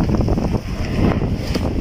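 Steady, blustery wind roaring across the microphone on a rooftop with a corrugated metal roof, a broad low rumble with gusty swells and no voices.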